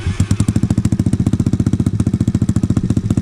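Honda CT70 clone mini bike single-cylinder engine idling close by, a loud, steady, fast thumping exhaust putter with even rhythm throughout, no talking.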